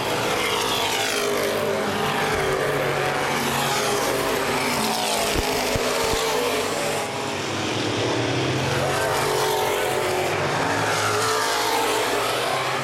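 Open-wheel modified race cars roar around the Baer Field Speedway oval during a feature race, with a loud, steady engine drone that swells as cars pass.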